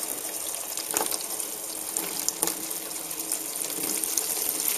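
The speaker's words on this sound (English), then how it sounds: "Let's get the water flowing first." Tap water runs steadily into a darkroom sink for soaking a sun print, a continuous close hiss with a few small splashy surges and no talk.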